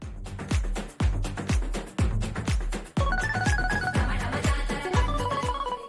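A mobile phone rings with an incoming video call, a loud melodic ringtone repeating its pattern of sharp struck notes several times with no talk over it.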